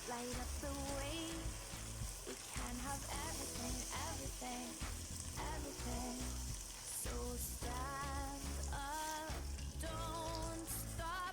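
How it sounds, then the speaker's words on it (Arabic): Water poured into a hot pot of rice with broad beans sets off a steady, loud sizzle and bubbling that runs for about eleven seconds, with tonal sounds wavering over it. "نضيف الماء."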